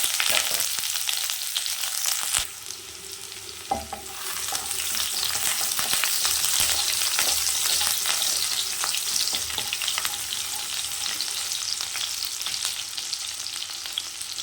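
Onions and fennel seeds frying in oil for an egg curry gravy, a dense, loud, continuous sizzle with a few brief knocks and scrapes of the spoon, close up and without speech.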